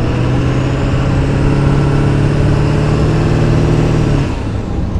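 A Ford OBS truck with a new turbo downpipe drives on a test run, its engine and turbo giving a loud, steady drone and rush that hold evenly and then ease off slightly at the end.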